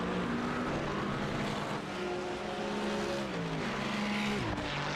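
Ferrari race car in a sim racing game at a chicane: a loud, continuous engine whine climbs and falls through gear changes, close and dense over the whole stretch.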